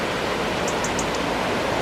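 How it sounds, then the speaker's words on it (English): A river rushing along below in Sedbergh gives a steady, hissing broadband roar, continuous and even in level, with a few faint high chirps briefly above it. "We're in Sedbergh, just by the river, which is rushing down there."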